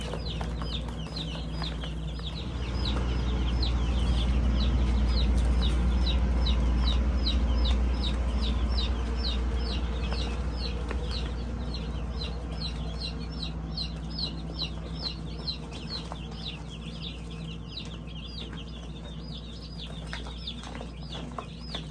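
Baby chicks peep in rapid, repeated high chirps over a low steady background hum, a busy cluster of small birds calling continuously.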